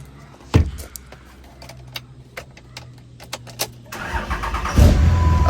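A single cab short bed dually truck with a 2G engine swap starts up: keys jangle and click close by, then the engine cranks briefly and catches into a loud, rising rumble near the end.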